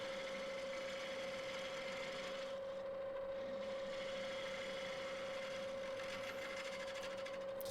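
Steady scraping hiss of a gouge cutting elm on a spinning wood lathe, paired with a constant high motor whine, continuous and close for the whole stretch with no talking.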